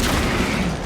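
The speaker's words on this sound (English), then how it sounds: "Throwing frag grenade!" A frag grenade detonates in Warhammer 40K Space Marine 2, a loud, close, broadband blast that rumbles continuously through the short moment with no pause.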